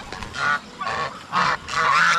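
Domestic ducks on a farm give four loud, harsh honking calls in a steady series, with brief gaps between them.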